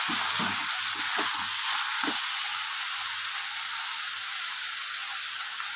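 Banana flower curry with turmeric sizzles steadily in a pan as pre-fried prawns seasoned with salt and turmeric go in, a continuous close hiss with a few soft stirring thumps at the start.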